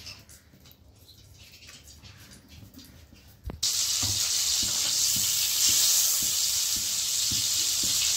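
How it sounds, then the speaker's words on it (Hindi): Oil and butter hiss and sizzle loudly and steadily in a hot kadhai for restaurant-style butter chicken, the frying starting abruptly after a quiet stretch with faint clinks and continuing close and dense. "कढई गरम झाली आहे. त्यात 2 चमचे तेल टाकून घ्यायचे आहे आणि 2 चमचे बटर."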